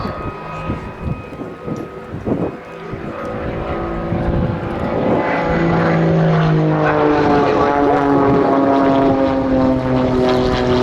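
A Jet Pitts Special aerobatic biplane performs a display at Duxford's summer air show: its engine drone builds from distant to a loud, sustained pass that swells and shifts pitch as it rolls overhead, with no talk.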